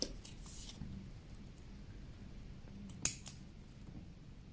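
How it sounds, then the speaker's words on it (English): Scissors snipping into the round holes of planner pages, a couple of sharp close clicks late on over quiet paper rustling and faint handling. "I'm just gonna snip into the round holes."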